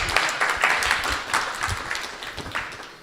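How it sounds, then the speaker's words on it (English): Audience clapping during a Srimad Bhagavatam discourse, a moderate round of many hands clapping steadily before fading slightly, with no talk over it. "Hare Krishna. Clap, clap."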